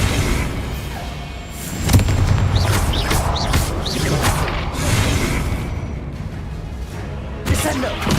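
Booming blasts of the Confringo fire spell in the Hogwarts Legacy video game, several fiery explosions with whooshes layered over dense battle noise and a speaking voice, loud and continuous throughout.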